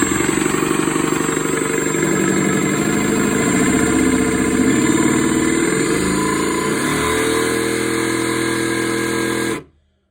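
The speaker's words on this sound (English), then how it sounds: "Now on the inside shelf I'm using a jigsaw." A jigsaw cuts through a wooden basement shelf with a loud, steady buzzing drone that changes pitch slightly near the middle, then stops abruptly just before the end.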